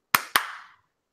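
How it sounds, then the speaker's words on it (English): Two sharp hand claps, close and loud, struck about a fifth of a second apart to sync a podcast recording, each snapping out with a short room echo before silence. "And we are clapping in 3, 2, 1."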